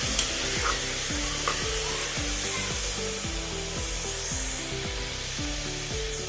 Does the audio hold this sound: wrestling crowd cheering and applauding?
no